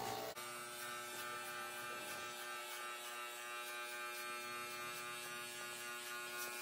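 Electric hair clippers buzz steadily during a home haircut, fading the hair higher up the head, with a close, constant motor hum after a brief start and faint changes as the blades work.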